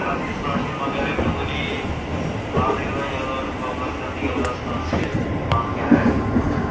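A KRL commuter train bound for Cikarang rumbles steadily at midnight, heard from inside the carriage, with constant rolling wheel noise, faint rail clatter and a few squeaks, and a voice talking over it.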